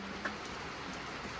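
Rain falls as a faint, steady hiss with soft scattered patters and no voices.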